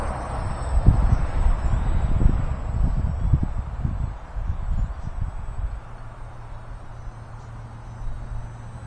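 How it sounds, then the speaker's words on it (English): Wind gusts across an airfield where a light Waco biplane waits. It buffets the microphone in loud, uneven low rumbles that ease into a steadier, softer breeze under a faint high hum. "It's breezy."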